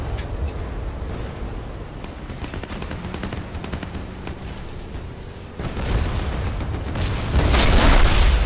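Gunfire and booming explosions in the Battlefield Play4Free shooter, a steady dense rumble of shots and blasts that swells louder toward the end, with no voices over it.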